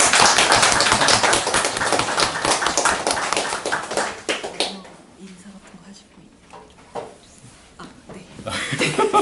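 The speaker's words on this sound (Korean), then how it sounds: "서로의 감사하는 의미 박수로 마무리하면 좋겠습니다." Audience applause closing a lecture: a dense burst of many hands clapping nearby that thins out into scattered claps and murmuring voices, then swells again at the end.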